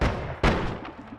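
Shotgun spells firing in the video game Noita, two sharp booming blasts in quick succession, each trailing off into a short rumbling decay, loud and close with no talk.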